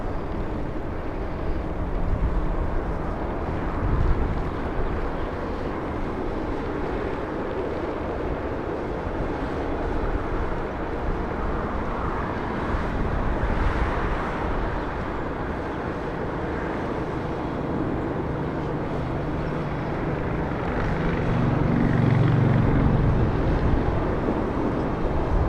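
A Southwest Airlines jet taxis fast along a taxiway at Los Angeles International Airport, a steady, distant engine roar with wind rumble that grows slightly louder toward the end.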